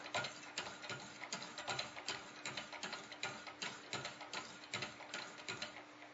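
Curved knife blade drawn against the stones of a Wicked Edge guided sharpener, a steady rhythmic series of scraping strokes, close and moderately loud, with no talking.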